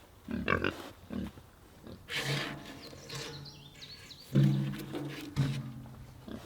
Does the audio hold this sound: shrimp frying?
no